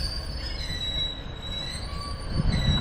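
A departing train at Preston station, a dirty multiple unit pulling out, gives a steady rumble with high wheel squeal that grows louder near the end, heard alone without voices.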